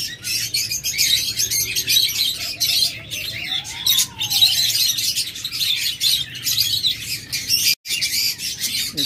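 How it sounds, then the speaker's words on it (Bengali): A pair of white ring-neck doves calls, with one soft, low rising-and-falling coo standing out mid-clip, set against a steady bright background of other small birds chirping continuously in a busy bird market. "চমৎকার এক জোড়া ঘুঘু দিয়ে শুরু করতেছি।"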